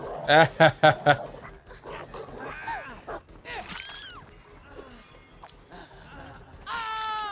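The killer's dog in the horror game Dead by Daylight gives a quick run of four loud barks up close, then whines, yips and panting sounds through the rest, with a final drawn-out whimper.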